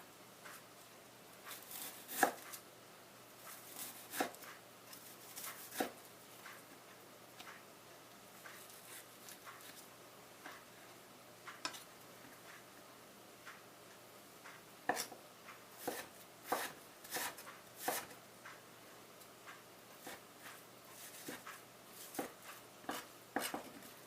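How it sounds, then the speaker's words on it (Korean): A knife slices tuna on a cutting board for tuna tartare, giving scattered light taps and cuts at an uneven pace, close but soft against a quiet room, with no talk. "먼저 편을 썰어서 사이즈 맞춰주시고요."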